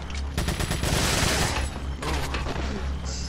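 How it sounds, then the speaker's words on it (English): Dense, sustained enemy gunfire in the video game Resident Evil 4, a loud rapid volley of shots that pauses briefly near the middle before the firing resumes, with no voices over it. "I see you shooting at me."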